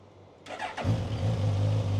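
A 2017 Suzuki GSX-S 1000F motorcycle engine cranks and catches, then settles into a steady low rumbling idle, close by and moderately loud.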